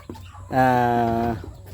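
A young chick of a large chicken breed gives one clear, sustained tonal cheep lasting under a second, close and fairly loud against a quiet background.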